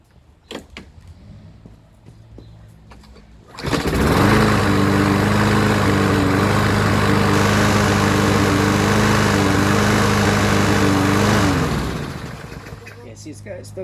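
A warm 2003 Toro Recycler lawn mower engine is pull-started and roars steadily nearby for about eight seconds with a slight miss before winding down, with someone talking before and after.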